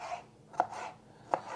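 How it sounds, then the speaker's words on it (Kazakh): A knife chops pickled cucumbers into thin strips on a board, giving two sharp, distinct cuts about three-quarters of a second apart, close and fairly quiet, with no talking. "Ең алдымен соленый огурцыларымызды жақсылап соломка етіп турап аламын."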